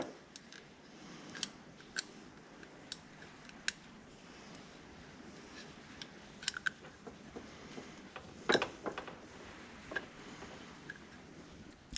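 Subaru Crosstrek OEM plastic reflectors are cut apart with a blade, making faint, scattered close-up snips and ticks over a soft, quiet background.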